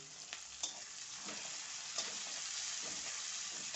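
Onions sautéing in a pan for a dill leaf (shepu) vegetable dish, a steady close sizzle with a few brief stirring scrapes and clinks over about four seconds, no voices.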